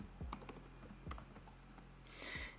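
Keys are tapped on a computer keyboard while entering commands in a command-line terminal: scattered, fairly quiet keystrokes in irregular bursts, heard alone.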